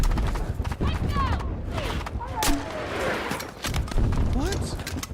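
Gunfire from a VSSM rifle in a first-person shooter game, scattered shots and thuds mixed with busy game noise while someone talks over it.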